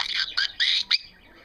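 Alfie, a pet conure parrot, lets out a string of loud, close, harsh squawks and chirps in three quick bursts, then falls quiet.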